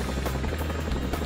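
Chinook tandem-rotor US military helicopter flying, a loud steady throbbing roar of the two main rotors that fills the whole short stretch, with no talk.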